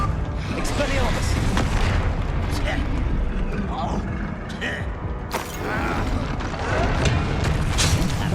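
Confringo fire spell explosions in Hogwarts Legacy, booming blasts and crackling combat effects layered over dense game music and dialogue, loud and continuous throughout.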